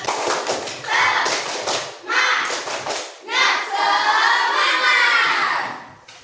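Elementary schoolchildren in a classroom perform a rhythmic spirit clap, bursts of clapping alternating with children chanting together, loud and close, with pauses between clapped phrases.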